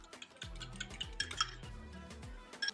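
Egg mixture with water, salt and pepper whisked in a bowl with a utensil, giving a brief run of soft scraping strokes and light clinks against the bowl, close and quiet with no talk.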